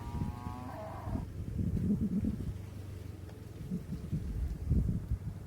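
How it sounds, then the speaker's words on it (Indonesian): A single cow lows briefly at the start at a garbage dump where cattle feed on waste, then low outdoor rumbling and shuffling fill the rest. "Biasanya sampai ribuan ekor sapi yang ada di sini."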